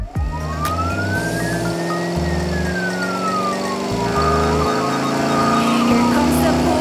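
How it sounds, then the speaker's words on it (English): Police car siren in a children's song, a rising and falling wail sweeping over bouncy music with a singing voice, loud and close. "Here comes the police car with lights flashing bright."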